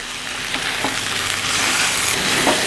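Vegetable stalks with turmeric, cumin and chilli powder being stirred in a hot frying pan, a close, steady hissing sizzle with a few faint scrapes of the spoon.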